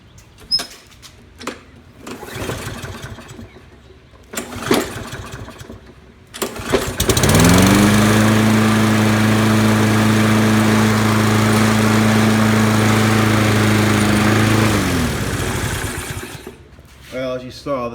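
A Kohler engine on a Toro self-propelled lawn mower cranks and catches, then runs at a loud, steady idle for several seconds before cutting off, with handling noises and a few knocks beforehand.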